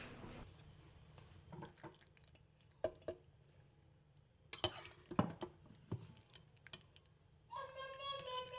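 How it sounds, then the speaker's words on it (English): Cooked chicken thighs lifted out of a crock pot and the juices poured through a sieve, heard as scattered clinks and knocks of utensils on the pot, a burst of clattering, then a running pour of liquid near the end, close and fairly quiet. "remove all of my chicken thighs from the crock pot, and then I am going to sieve any drippings and juices left in the crock pot"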